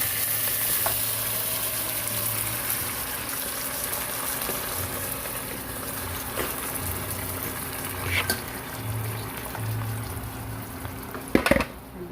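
Pork spare ribs sautéing in a pan after garlic and onion for sinigang, a steady close sizzle and fry with occasional stirring clatters and a sharp scrape near the end.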